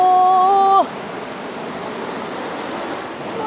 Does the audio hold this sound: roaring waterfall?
yes